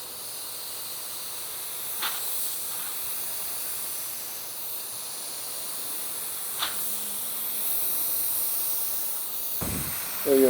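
A Drizzle Pro paint gun spraying clear coat onto a panel, a soft, steady hiss of spray running throughout with a few brief clicks and a louder knock at the end.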